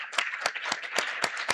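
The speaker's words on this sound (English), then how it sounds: "Let's give a round of applause and thank" A handful of sparse, sharp handclaps ring out in an even rhythm from a small audience thanking international volunteers at a Rotary talk, with about six distinct claps in under two seconds.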